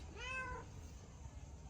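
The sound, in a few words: black cat meowing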